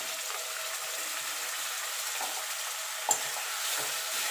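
Tomato and a prepared spice paste fry in a hot pan for a Bengali drumstick and potato posto dish, giving a steady close sizzle throughout with a brief clink of a stirring utensil partway.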